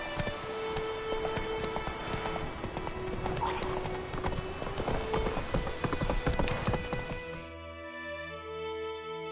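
In The Witcher 3, the horse Roach gallops hard with rapid, close, drumming hoofbeats that keep up for most of the stretch, then cut off abruptly into quieter game ambience.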